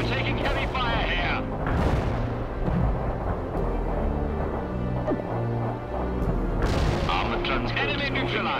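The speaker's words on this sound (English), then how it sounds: "We're taking heavy fire here." Heavy gunfire and booming explosions in a military video game, a dense rolling barrage of blasts with sharper bursts near the start and end, while voices speak over the battle.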